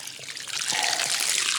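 Water flows steadily from a newly installed well pump, a close, continuous hissing trickle that grows slightly louder partway through.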